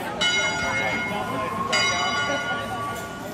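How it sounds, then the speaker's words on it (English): Bells ring out at night at the Holiday World amusement park. Two distinct clanging strikes ring and decay, one near the start and one midway, over a low background murmur of crowd noise. "And you can hear the bells too,"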